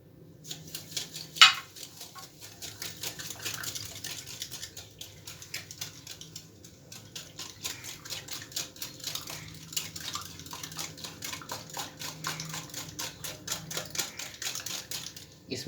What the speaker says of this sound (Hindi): सबसे पहले हम इन अंडों को फेंट लेंगे और इसमें चीनी ऐड कर देंगे